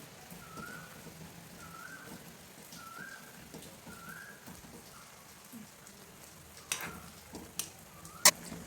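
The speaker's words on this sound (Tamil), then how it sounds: "இப்போது இது எல்லாமே நல்லா சுகர் சிரப்பில் பாயில் ஆகிடுச்சு" Ras malai boiling in sugar syrup, a soft steady bubbling and fizzing with faint hissing, quiet and close, broken near the end by a few sharper clinks.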